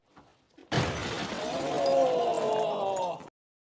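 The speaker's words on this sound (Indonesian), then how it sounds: "mereka dengan percaya dirinya memecahkan kaca untuk bisa masuk ke ruangan kerja" Glass smashes loudly as people break through a locked door into an office in a film; a sudden crash starts the sustained shattering and tinkling of broken glass, which continues for a few seconds and then cuts off.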